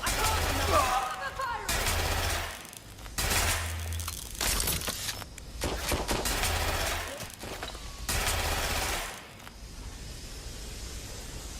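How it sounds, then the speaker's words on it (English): Gunfire in the video game Watch Dogs: Legion, with repeated loud bursts of shots in several clusters separated by brief lulls, over a constant game background. "Shots fired! They're wounded!"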